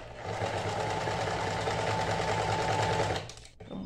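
A sewing machine stitches a small bow onto a pair of panties, running as a steady, close mechanical whir for about three seconds before stopping abruptly.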